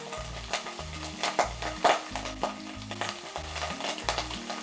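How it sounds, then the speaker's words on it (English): Diced ham searing in hot oil over low to medium heat, a steady sizzle and fry with repeated scraping and stirring strokes of a utensil against the pan, close and even throughout. "add some more oil to sear the diced ham for a few minutes"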